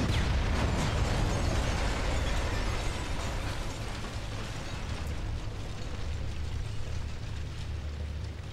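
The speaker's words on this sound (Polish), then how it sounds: "No i pojazd pancerny eksploduje." An armored vehicle explodes in the game Sniper Elite V2, a dense, roaring blast that settles into a sustained low rumble with crackling debris, filling the whole stretch without voices.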